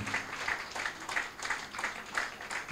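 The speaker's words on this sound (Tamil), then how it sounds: "கைத்தட்டிகிட்டே இருங்க" Audience applause at a church anniversary service, a steady wash of clapping with regular swells, moderately loud throughout.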